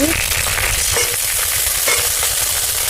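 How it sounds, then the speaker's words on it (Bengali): Onions frying in a pan with ginger, garlic and cumin as the base for a meat dish give a loud, continuous sizzle with faint stirring scrapes, close up. "পেঁয়াজগুলো দেখো ভাজা ভাজা হয়ে গেছে"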